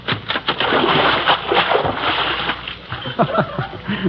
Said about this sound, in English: I rigged up a bucket of water over the door, and when the principal opens the door, it'll tip the bucket.